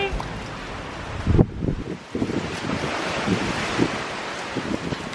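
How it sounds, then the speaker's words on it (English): Strong wind gusting outdoors on a patio, a steady broadband roar with buffeting bursts against the microphone that continue throughout. "It's windy today."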